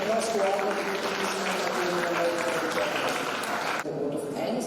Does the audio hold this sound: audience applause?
yes